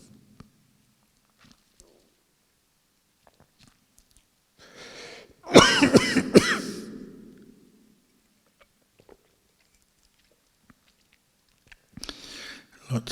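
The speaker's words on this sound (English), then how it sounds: "I have a cough." A single person gives a brief burst of harsh coughing and throat clearing, close and fairly loud, in an otherwise quiet room, with faint shuffles before and another short rasp near the end.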